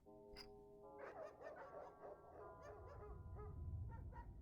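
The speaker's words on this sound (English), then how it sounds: "I hear a lot of dogs." Many dogs bark and whimper together in a video game set at a lord's estate, a dense, steady chorus of overlapping yips and barks with no talk.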